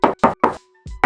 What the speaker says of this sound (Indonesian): Lalu sekarang coba kita tes ketok bagian sampingnya.